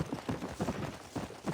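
Rapid, steady hoofbeats of a horse in Red Dead Redemption 2 thud in a quick galloping rhythm, close and moderately loud, with no voices.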